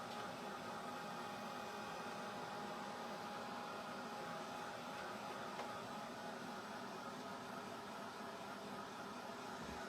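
A dryer blows steadily on crackle paint coating a small Dollar Tree mini lantern, producing a constant, even whoosh of air that runs unbroken from start to finish with no talking.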